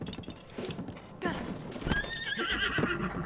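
A horse in the video game Zelda Breath of the Wild whinnies loudly while its hooves clip-clop steadily, close and clear over faint background sounds.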